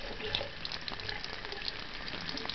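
Tap water running steadily like a shower spray over a basin, a constant soft hiss with faint splashing, close and moderately quiet, no talk.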